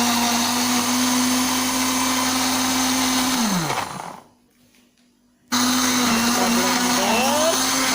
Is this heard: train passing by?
no